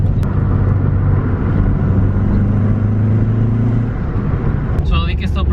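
A Subaru WRX with an exhaust leak after a flex pipe install drives along, its engine humming steadily with a droning rumble from inside the cabin, and someone talks briefly near the end.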